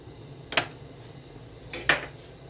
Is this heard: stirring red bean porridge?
yes